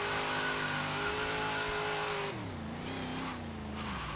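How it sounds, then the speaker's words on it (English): A steady high-pitched supercharger whine from a video game drift car rides over a droning engine, holding pitch and then dropping and rising as the revs change. "Supercharger whine."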